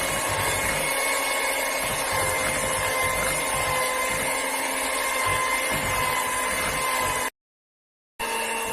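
A hand mixer steadily whirs at close range, beating eggs into dough for crispy choux pastry. It runs continuously, cuts out briefly near the end and then starts again.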